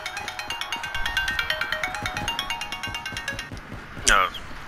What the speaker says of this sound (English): Sorry guys, I got a phone call here.